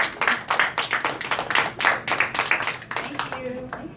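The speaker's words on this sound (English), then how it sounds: "let's give him another round of applause" An audience claps in steady, roughly rhythmic bursts of applause, close and lively, fading out toward the end with a voice faintly heard.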